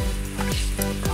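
Onions frying in desi ghee for Sindhi biryani, a steady close sizzle filling the short stretch with faint stirring scrapes, no voices.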